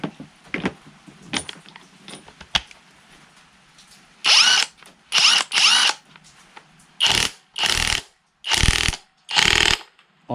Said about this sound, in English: I always needed a 1/2-inch impact driver.